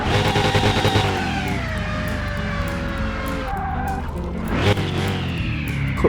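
A Panoz Esperante GTR-1 engine in Car Mechanic Simulator 2021 revs hard toward top speed, a loud steady drone with rising and falling tones as gears shift, plus a brief tire squeal near the end.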